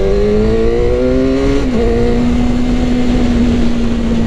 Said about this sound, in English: even with a stock exhaust, this bike sounds amazing